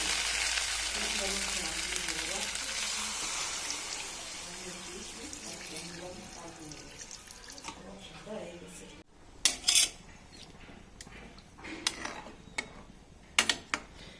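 Water poured into spiced bhetki fish masala frying in a pan sets off a loud, hissing sizzle that slowly fades, followed by sharp metallic clinks of utensils against the pan, with a faint voice in the background.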